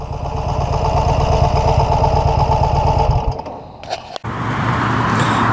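1999 Excelsior Henderson Super X motorcycle idling nearby with a steady, pulsing low rumble for about three seconds, then the engine cuts off and a short clatter and knock follow.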